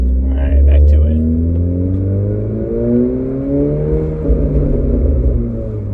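A 2022 Honda Civic Si with an adjustable short-throw shifter drives along, its engine giving a loud, steady drone that rises and falls gently in pitch, with road noise and a voice talking over it.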